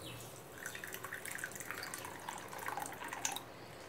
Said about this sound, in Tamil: நான் இப்போ தேவைக்கேற்ப அளவு தண்ணி ஊற்றிக்கலாம்.